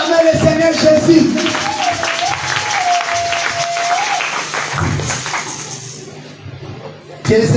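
A church congregation applauds in a sustained, dense wash of clapping, with a sung or held tone weaving above it and a voice briefly audible before the clapping fades toward the end.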